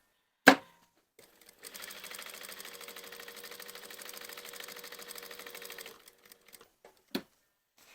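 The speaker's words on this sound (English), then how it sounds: "I'm going to machine a line of stitching down this side" Sewing machine stitching a line of stitching along the side of fabric: a steady, close, even mechanical whir lasting about four seconds, bracketed by sharp clicks or knocks before and after.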